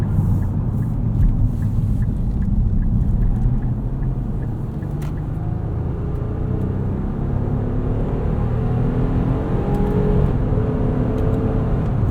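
A 2023 Nissan Pathfinder Rock Creek Edition accelerates in sport mode with paddle shifting, a loud, steady engine and road rumble heard from inside the cabin with a slight dip during a shift.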